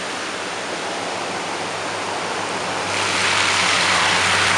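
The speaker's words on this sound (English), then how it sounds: "the river channel where all the water goes" Floodwater after Hurricane Irene rushes through a river channel in Stony Point, NY, a steady broadband roar with no talk that swells slightly louder partway through.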